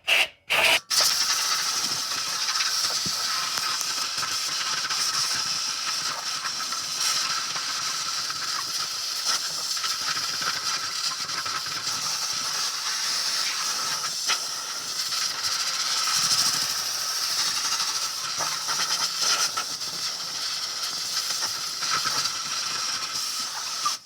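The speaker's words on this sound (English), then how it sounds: "blow it off with compressed air" Compressed air blasting dust and crud off a car muffler during a cheap repair, a steady loud hiss that runs almost unbroken from start to end after a couple of brief bursts.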